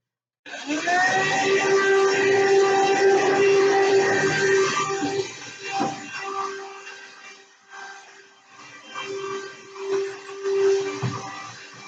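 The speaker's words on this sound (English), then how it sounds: "take my little vacuum cleaner and clean up all the dust that I can see behind the washer" A small handheld vacuum motor whines steadily at close range, sucking up dust behind a washer, then its pitch and strength waver as the nozzle moves around.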